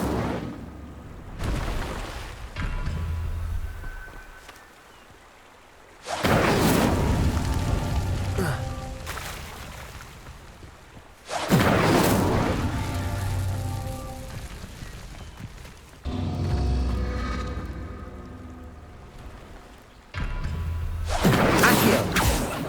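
Incendio fire spell bursts in Hogwarts Legacy, four loud whooshing, crackling flame blasts each decaying over several seconds, separated by quieter gaps.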